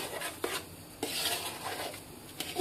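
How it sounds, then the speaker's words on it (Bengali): Biryani rice is stirred and fried in oil in a pan, with a spatula scraping and clinking against the metal in irregular strokes over a soft, steady sizzle. "চাল দিয়ে নেড়ে চেড়ে কিছুক্ষণ ভেজে নেব"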